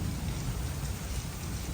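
Steady rain pours down in a Pathani village, a dense even hiss of falling drops with a low rumble underneath, no voices.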